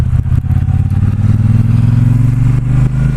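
A 2018 Triumph Bobber Black motorcycle pulls out, its engine loud and close with a throbbing, rising drone as it accelerates, with a few brief gear-change dips along the way.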